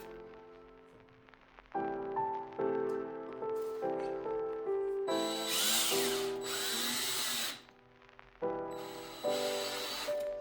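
A power drill drives screws into a wooden bench frame, several whirring bursts of varying length separated by short pauses, close and fairly loud with no talking.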